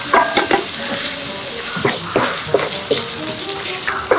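Onions sizzle in a pan while being stirred during outdoor tent cooking in the cold, a steady frying hiss broken by repeated scraping and clinking of a utensil against the pan, close and loud.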